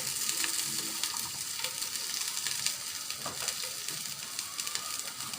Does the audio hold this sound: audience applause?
no